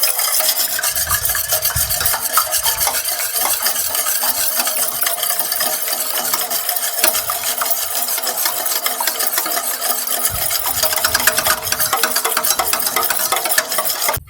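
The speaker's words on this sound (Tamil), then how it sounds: "இப்போ வந்து நல்லா முட்டையை வந்து மிக்ஸ் பண்ணிக்கலாம்." Eggs are beaten by hand in a bowl for a vanilla cake batter, a continuous fast scraping and swishing whisk sound, close and steady throughout with no voices.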